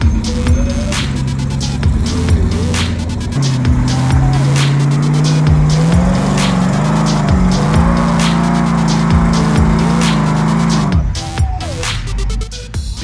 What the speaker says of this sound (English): But you know Marvin, who needs a rear steer when you can give it a good old East Coast brap?